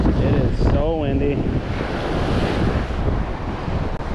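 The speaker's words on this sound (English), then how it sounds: "It is so windy." Strong wind buffets the microphone on a North Shore beach while surf rolls in, a loud constant roar with brief whistling gusts early on.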